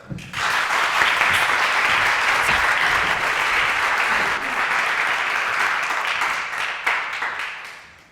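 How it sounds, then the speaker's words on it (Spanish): Sustained audience applause at a school TED-style talk event in Spain, dense steady clapping from a hall full of people that holds for several seconds and tapers off near the end. "Pues recibamos con un fuerte aplauso a Carlota."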